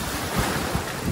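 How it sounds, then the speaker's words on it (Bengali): Sea waves roll in at Digha beach as a brief, loud rush of surf mixed with gusting wind buffeting the microphone. "এই দেখো দেখো ঢেউটা, জাস্ট দেখো দারুণ ঢেউ রয়েছে।"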